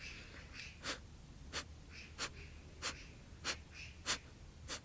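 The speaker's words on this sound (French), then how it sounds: "on va venir faire à nouveau Kapalabhati, cette respiration du feu, dans cette posture" Kapalabhati breath of fire, the yoga breathing practised in a held posture, gives a steady series of about seven sharp, forceful nasal exhales at regular intervals. The exhales are close and clear over a quiet background hum.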